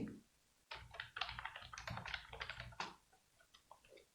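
Keys clatter on a computer keyboard as a new table name is entered in Excel, a quick burst of close, uneven clicks with brief pauses between runs, alone with no voice.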